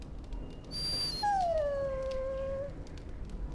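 A dog in the video game Dragon Age: Origins lets out a single long, wavering whimper that slides downward into a drawn-out howl-like whine, loud and close over a low background hum, with no talking.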